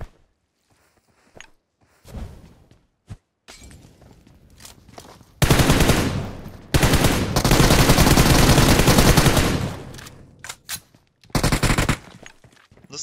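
Loud bursts of automatic gunfire in the mobile battle-royale game PUBG Mobile, with sparse shots early on, then two long sustained volleys and a final short burst.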